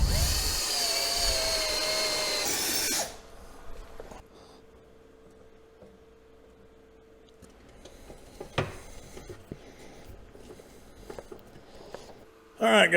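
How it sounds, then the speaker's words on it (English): A power drill whirs loudly for about three seconds, drilling a hole in the floor pan of an old golf cart, then stops; quieter handling noises and a few clicks follow before a brief burst at the end. "instead of having to drill 2 holes, you really can get away with only having to drill 1"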